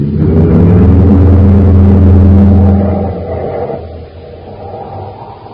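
Car engine rumble used as a sound effect in an old-time Space Patrol radio drama: a loud, deep, droning roar that holds steady, then sinks and fades to a quieter rumble.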